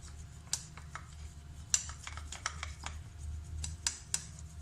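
Honey and lemon glaze stirred in a bowl with a spoon, giving light clinking taps against the dish at an irregular pace, close and fairly quiet.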